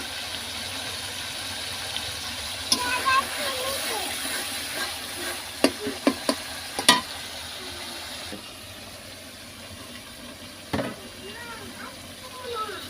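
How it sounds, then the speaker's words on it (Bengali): Spice paste fries in oil for a chicken roast, a soft continuous sizzle with sharp spoon-against-pan clacks scattered through, while a voice talks intermittently over the cooking. "তো এই যে মশলাটা কষিয়ে নিচ্ছি একবার তেল চলে আসছে"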